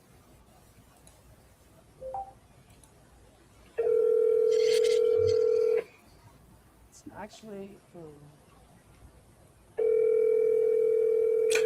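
Telephone call tone on a live stream: two long, loud steady ringback tones about six seconds apart, with brief clicks and speech between them.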